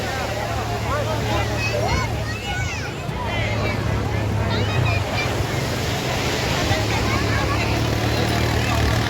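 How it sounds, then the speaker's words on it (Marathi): Ocean waves roll in at Chandrabhaga beach in Odisha, a constant roar of surf and wind buffeting the microphone while someone talks over it throughout. "लाट आता भरपूर जोरामध्ये आली काय वरपर्यंत येते"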